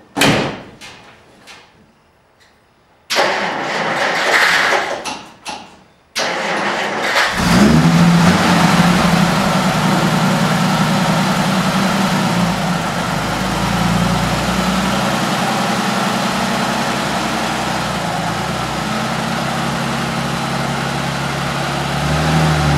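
A 1947 Dodge Coupe: a few sharp clicks and knocks, then the engine catches and runs at a loud, steady idle with a low, even rumble that continues for many seconds, with no talking over it.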